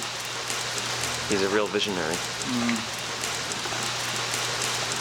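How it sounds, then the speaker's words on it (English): Rain falls outdoors on a hotel film shoot, a steady broadband hiss of drops running through the whole stretch, with someone talking briefly over it. "Suddenly, it starts to just rain now"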